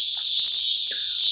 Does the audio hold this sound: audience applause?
no